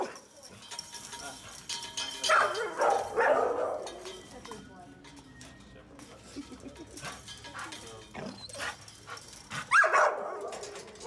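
A rescue dog barking at an animal shelter, with loud bursts of barks early on and again near the end, between quieter stretches while people talk.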